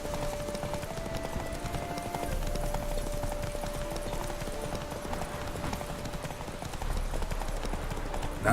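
Roach the horse canters in The Witcher 3 with rhythmic clip-clop hoofbeats over a steady ambient hum and a faint tonal drone, with no talking.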